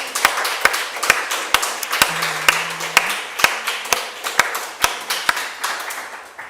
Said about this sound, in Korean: 우리 뜨거운 감사의 박수 올려드리겠습니다